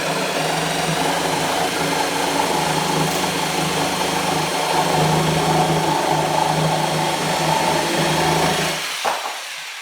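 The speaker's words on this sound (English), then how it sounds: "I'm going to just try this blower" A Bosch 7.2 top handle jigsaw runs with its dust blower on, a loud, continuous motor hum and whir held steady at close range before cutting off near the end.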